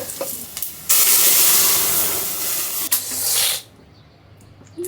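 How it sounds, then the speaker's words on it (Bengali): Leafy greens fry in a little oil with five-spice seeds, onion, garlic, dried chili and raw mango, bursting into a loud hissing sizzle that holds for a few seconds and then drops away to a quiet simmer. "আব্বুর শাক আমাদের শাক সব একসাথে অল্প তেল দিয়ে সব ভাজি করছি"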